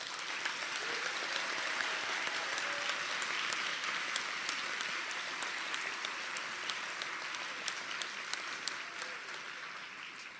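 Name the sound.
audience applause for nursing students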